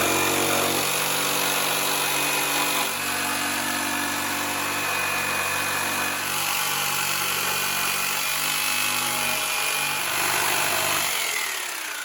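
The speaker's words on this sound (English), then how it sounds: "we're going to take the jigsaw and rough cut out the shape we got" Jigsaw rough-cutting a heart shape from a piece of wood clamped to a workbench, a loud continuous buzzing saw drone that holds steady for the whole stretch, close up with no talking.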